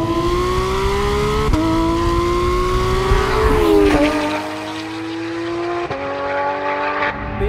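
Porsche 911 GT3 with a PDK gearbox blipping its engine on downshifts, a loud, strained howl broken by sharp throttle blips and sudden pitch drops, with no talk over it.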